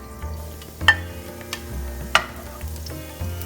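Soft sizzling of garlic and green chili frying in a little oil, with a few sharp clinks of a utensil stirring the pan.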